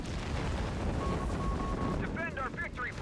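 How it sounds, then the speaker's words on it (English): Heavy artillery fire rumbles in a 4v4 Company of Heroes 3 match on the Monte Cavo map, a dense low roar of distant blasts filling the mix while a voice chatters faintly over the battle. "Oh, it's the heavy artillery."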